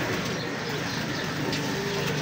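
French pigeons coo softly in a loft, a low continuous murmur of calls with constant background noise and no one speaking.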